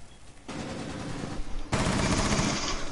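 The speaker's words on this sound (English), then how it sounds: "Oh crap, I'm getting shot at from." Automatic gunfire in the video game Rainbow Six Siege, coming in two sustained bursts, a quieter one first and then a louder, closer stretch of rapid shots with no talking.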